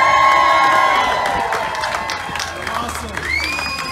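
A large crowd cheers and shouts together on cue, with whoops and some children's voices rising out of a loud, sustained roar that eases slightly toward the end.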